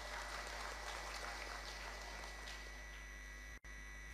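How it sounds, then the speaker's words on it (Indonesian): An audience at an anniversary-day speech in Purwakarta claps in a faint, distant, continuous patter over a steady electrical hum, broken by a brief dropout near the end. "Tepuk tangan kangge sadayana."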